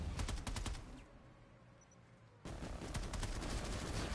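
Rapid bursts of automatic gunfire in the sci-fi shooter game Planetside 2, loud and close, breaking off for a short lull before another sustained volley resumes.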